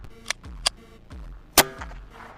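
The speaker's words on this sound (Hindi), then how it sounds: "शुरू कर रहा हूं पॉइंट 22 से।" Sharp .22 caliber gunshots fired at clay tires outdoors, several brief cracks with one loud close report standing out among fainter pops, each followed by a short low thud, no talking.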